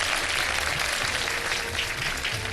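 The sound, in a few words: audience applause on a TV show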